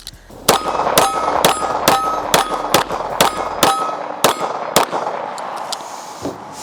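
A CZ TS2 Tactical Sport 2 competition pistol fires about nine quick, evenly spaced shots, each followed by the bright metallic ring of struck steel targets that lingers between reports.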